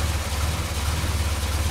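A 1970 Morris Minor engine runs at idle, a steady, loud, close low-pitched rumble with an even pulsing beat throughout.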